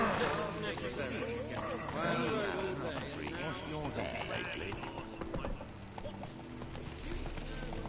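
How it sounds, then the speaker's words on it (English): Roach, the horse in the Witcher 3 video game, gallops with rapid rhythmic clip-clopping hooves under a steady game soundscape while someone speaks over it. "Run, Roach"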